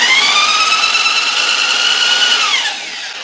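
A power drill bores into a go-kart brake part, a loud whining drone up close that runs steadily and then winds down at the end.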